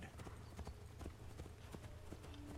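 Horse hooves clip-clop in a steady galloping rhythm during a horse chase in Assassin's Creed 3, the quick repeated thuds loud and continuous against faint game background sound.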